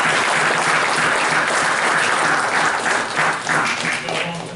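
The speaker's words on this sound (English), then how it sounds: "if you could give a big round of applause for your parents" A large crowd applauds steadily at a school board meeting, a dense wash of clapping that stays loud throughout and tapers slightly toward the end.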